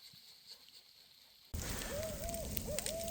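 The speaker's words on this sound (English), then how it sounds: "There's an owl hooting right now." An owl hoots several times in a quiet, snowy winter forest along a river trail, the calls clear over a steady background hiss.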